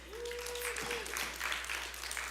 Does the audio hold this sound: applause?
yes